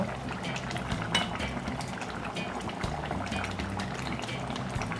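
Mutton and Irish potatoes simmering in a pot, a steady bubbling boil with soft liquid churning and occasional light clinks of utensils against the pot, close and continuous with no talking.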